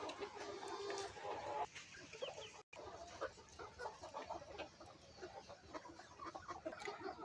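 Chickens in a poultry farm shed cluck and call continuously, several birds close by with overlapping bursts, fairly faint overall, with no speech.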